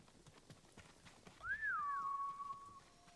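Galloping horse hooves from the video game Ghost of Tsushima patter in a quick rhythm beneath a gliding whistle-like tone that rises and then holds steady.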